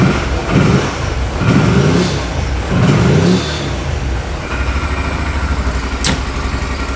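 An Odes Dominator 1000 X2 UTV engine runs rough up close, with uneven throttle surges and a boggy, loud idle between them.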